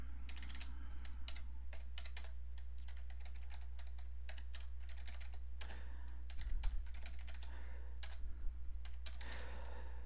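Rapid typing on a computer keyboard, clusters of sharp key clicks in irregular bursts, close and clear over a low steady hum.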